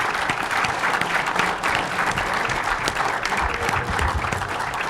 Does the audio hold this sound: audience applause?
yes